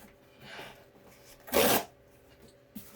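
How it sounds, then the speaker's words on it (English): A short, sharp rustling tear of a cardboard shoebox-style box being opened bursts out loudly amid quiet room noise, with faint scuffs before and a small knock after. "this is the sound of a box being opened."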